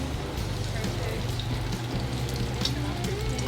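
Diced potatoes and ham frying in oil in a crowded pan give a steady, dense sizzle and crackle, continuous and fairly close, with a low background hum underneath.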